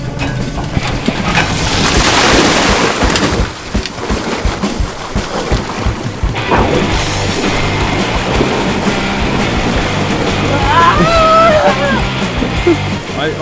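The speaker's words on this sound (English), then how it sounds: "I see a lot of splashing water," Water splashing and sloshing around a homemade amphibious cart floated on barrels, a steady broadband wash of churning water running throughout at close range, with a brief high whistling tone late on.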